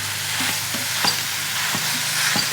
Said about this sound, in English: So now that the onions are pretty much cooked, they've been cooking for about 3 minutes, I'm gonna add in my ground beef.